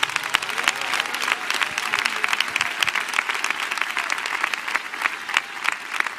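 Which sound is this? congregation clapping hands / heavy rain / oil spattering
congregation clapping hands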